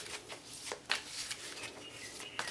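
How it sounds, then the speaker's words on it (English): Goddess tarot cards are shuffled by hand with a run of quick, crisp riffles and flutters, close and moderately quiet, with no talking. "let's just give them a bit of a shuffle"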